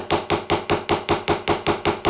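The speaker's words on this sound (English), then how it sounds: "Now with the ball peen hammer, you see it leaves little divots." Ball peen hammer striking a metal bracelet blank to texture it, sharp evenly spaced taps about four per second, ten blows in a row, close and loud with no talk.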